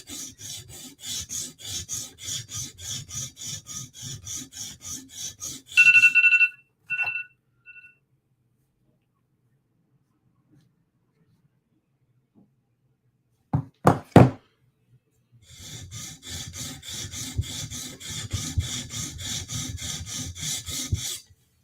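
A blade edge being sharpened on a stone makes rhythmic rasping strokes, then a few knocks and a brief pause, before the steady back-and-forth grinding resumes near and clear.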